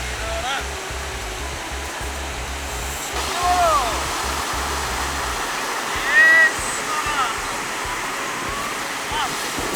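Ocean surf breaking at a beach in Bali, a broad steady wash of waves with a low rumbling swell early on, occasional louder surges and faint wind over the water.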